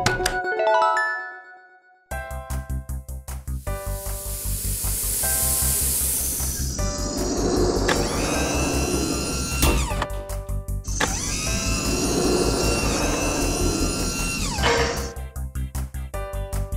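A cartoon stretching machine runs for children's baby buses, with whooshing hisses and rising, warbling mechanical sweeps layered over bouncy music.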